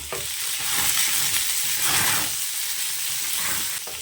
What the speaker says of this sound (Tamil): சின்ன வெங்காயம் சேர்த்துக்கலாம் அடுப்பு கம்மியாக வச்சுக்கோங்க இந்த வெங்காயத்து கூடவே கொஞ்சமாக ஜீரகம் மிளகு சேர்த்துக்கலாம்